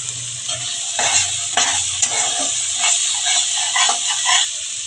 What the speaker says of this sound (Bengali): আমি 5 মিনিট কষিয়ে নেব